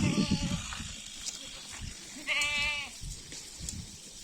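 A sheep on a farm kept with goats gives one short, wavering bleat partway through, set against quiet background noise and faint knocks.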